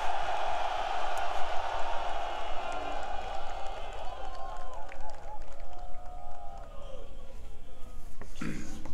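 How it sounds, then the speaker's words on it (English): Crowd applause and cheering for President Yoon at South Korea's Armed Forces Day military parade, a broad clapping roar heard at a distance, steady through most of the span and mixed with a voice over a loudspeaker. "a big round of applause"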